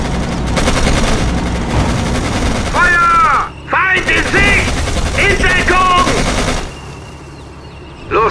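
Machine gun fire in the World War II strategy game Codename: Panzers, a continuous loud battle din of rapid shots, with soldiers shouting in German over it.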